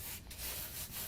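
Glitter rubbed by hand over a sticky sheet to burnish it onto a card background, heard as two or three brief close scratchy rubbing strokes with no talking.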